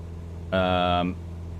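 Aircraft engine in Microsoft Flight Simulator throttling up, a steady harmonic drone that swells suddenly, holds for about half a second, then drops back to a low background hum.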